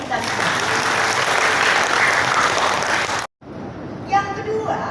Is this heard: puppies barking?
no